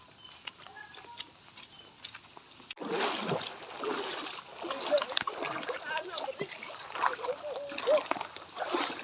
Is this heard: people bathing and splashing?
yes